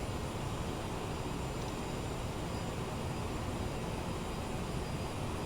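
Steady broadband roar of a CRJ-700 jet airliner's engines in a flight simulator, a continuous even drone with no talk over it.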